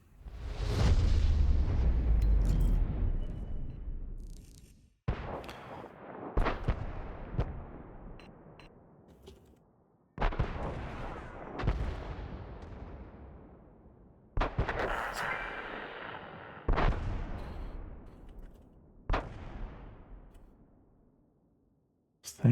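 Heavy artillery fire in a video game, several deep booming blasts each fading into a long rumbling tail, spaced a few seconds apart, loud and close, with no talk.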